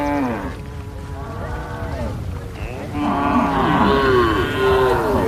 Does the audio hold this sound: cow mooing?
yes